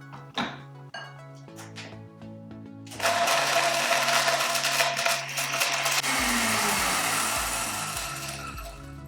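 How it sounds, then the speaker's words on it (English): A high-speed blender with a dry container starts with a few knocks, then roars loudly and steadily, grinding dehydrated citrus peel pieces that rattle against the container. "you're gonna take a high-speed blender dry container"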